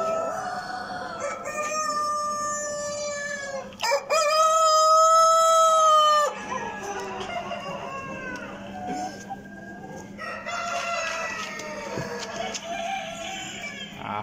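At a national poultry exhibition, a prize rooster gives a loud, sustained crow near the middle, framed by earlier calls and later clucking from hens in a noisy hall.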